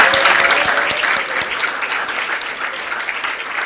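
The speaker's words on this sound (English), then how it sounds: "Clap yourself again." Sustained audience applause at a school symposium, steady dense clapping from a large seated crowd of students throughout, fairly loud and even with no talk over it.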